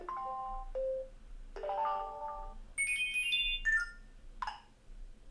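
Custom ringtones play back from an iPhone one after another, a run of short chiming and ding-like melodic tones changing pitch every second or so, moderately loud with no voices.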